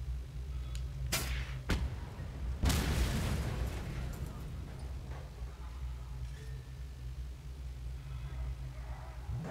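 A fragile gate blows up in the Mad Max video game: a sharp bang near the start, then a bigger blast with a rumbling tail over a steady low engine drone.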